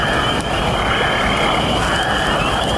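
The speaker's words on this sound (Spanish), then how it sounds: "Los sapos roble son comunes en estos bosques" Oak toads call steadily in a forest, a dense, loud chorus of high buzzy peeps layered over constant background noise with no pauses.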